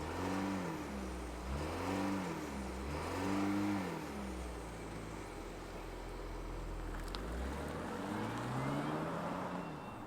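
A 2024 Alfa Romeo Tonale Veloce plug-in hybrid SUV with a turbocharged engine starts and accelerates, its engine note rising and falling through several revving surges, steady and moderately close with no talking.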